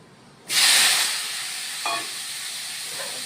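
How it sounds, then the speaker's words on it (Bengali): Potato and pumpkin pieces hit a hot pan with a sudden loud sizzle that settles into steady frying hiss, followed by a few smaller crackles as more pieces are added or stirred. "এখন আলু আর মিষ্টি কুমড়োগুলি দিয়ে দেব।"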